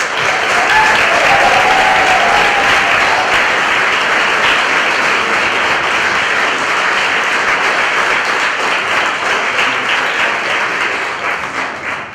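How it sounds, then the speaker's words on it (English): An audience at a National Honor Society induction ceremony gives sustained, loud applause for the new members, a dense wash of clapping that holds steady for about twelve seconds before easing slightly at the end. "Please join me once more in applauding all of our new NHS members."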